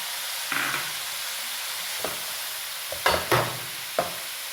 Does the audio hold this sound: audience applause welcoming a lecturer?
no